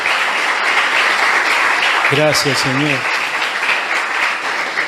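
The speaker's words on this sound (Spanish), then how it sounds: "Dale un aplauso al Señor, aleluya." A church congregation applauds the Lord in a loud, steady wash of clapping that runs throughout, while a voice briefly speaks over it partway through.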